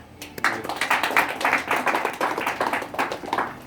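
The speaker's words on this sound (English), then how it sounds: "Clap for Jesus." A church congregation clapping in a steady rhythmic beat, many hands together at a quick even pulse, loud and close, without talk over it.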